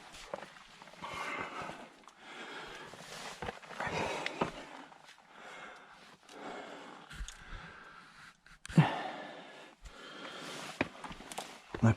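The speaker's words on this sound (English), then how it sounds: "You'll have to excuse the puffing and panting." Heavy breathing, puffing and panting from someone climbing the Aonach Eagach ridge alone, close and irregular, with scuffing steps and gear movement woven through the effort.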